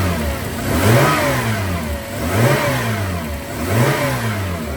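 Toyota 80 Series Landcruiser with a 1FZ-FE petrol engine, revved by hand at the throttle cable, rising and falling through three close, loud rev cycles with no talk.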